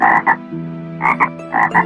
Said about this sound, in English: There were two frogs in the near about garden